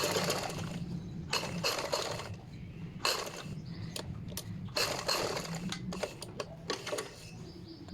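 Sewing machine run slowly to stitch around a round shape on a tissue-fabric dress hem: short close bursts of mechanical stitching broken by brief pauses, quiet overall and without speech.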